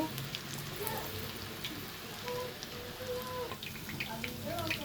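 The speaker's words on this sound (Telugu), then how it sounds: "చూసారు కదా ఈ విధంగా అయితే ఆయిల్లో ఫ్రై ఫ్రై అవుతున్నాయి" Bondas frying in hot oil, a soft continuous crackle and bubbling sizzle with scattered pops, fairly faint and steady, with no one speaking.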